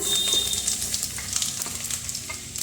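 Garlic and ginger frying in hot oil over tempered cumin, a close, steady crackling sizzle with light stirring scrapes and no voices.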